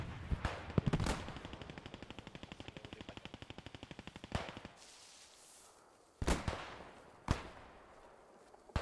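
Gunfire at night in the World War II game Post Scriptum: a long, steady rattle of machine-gun fire, then several sharp, loud single shots with quiet gaps between them.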